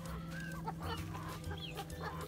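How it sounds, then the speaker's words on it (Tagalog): Chickens cluck inside a homemade coop built from corrugated sheet and scrap material in the countryside, a steady run of soft, close clucks with a faint crow behind them. "May manok na po sa loob."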